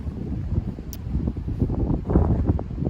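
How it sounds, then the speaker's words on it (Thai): Strong wind buffets the microphone outdoors in a natural setting, a steady low rumbling roar with gusty surges throughout and no talk. "ลมพัดแรงมาก"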